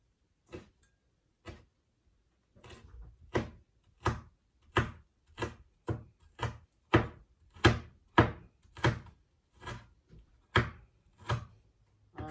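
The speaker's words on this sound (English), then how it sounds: "So I'm gonna start cutting the peppers first. So I'm gonna cut the slices small." Knife chopping peppers into small slices on a cutting board, roughly a dozen distinct sharp thunks that come close and clear in a steady, unhurried rhythm with brief gaps between them and no talking.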